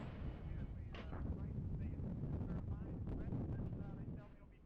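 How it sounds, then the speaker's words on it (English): Artillery fires in the wargame-inspired real-time tactics game Regiments: a dense, rumbling barrage of booming blasts with gusty noise, continuous and loud throughout before easing off at the end. "There's artillery firing."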